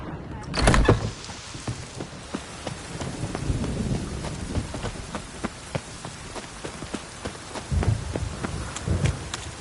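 Steady rain falls across a video game scene, with scattered drop ticks and a low rumble of thunder that swells at the start and again near the end, while a voice speaks faintly beneath it.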